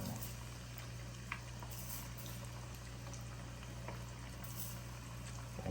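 Frog legs frying in a pan with plenty of oil, heard as a steady, soft bubbling sizzle with a low hum underneath and occasional small pops.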